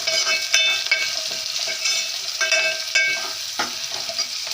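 Spices with turmeric fry in a pan for a seme brinjal palya, a bright steady sizzle broken by several scraping stirs of a spoon, close and fairly loud, with no speech.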